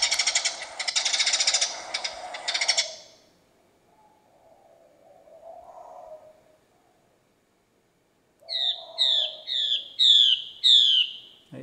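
A bird-trapping speaker plays a recorded call for luring a mi bird: a loud buzzy burst, a quiet stretch, then a series of five sharp, rising whistled phrases repeated in rhythm.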